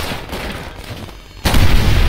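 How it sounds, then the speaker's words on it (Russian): A loud, broad blast of explosion noise in Call of Duty: World at War bursts in after a quieter stretch of rumbling battle sound, then holds steady to the end. "А, взрыв."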